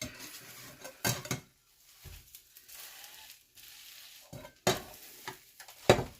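Cheese sizzles softly in a frying pan, and a few sharp clinks of a utensil against the pan break in between quieter stretches.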